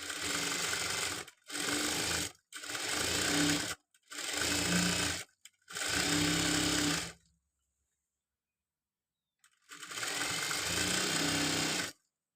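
A sewing machine runs in five short bursts that stop and start, stitching the side slit of a chudidar top, then goes quiet and restarts for a final burst. It is close, loud and steady, with no talking.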